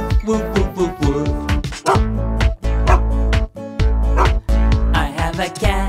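In a children's song, a voice imitates a dog with a quick run of rhythmic, sung barks, about nine in a row, each short and punchy, set against a bouncy backing track.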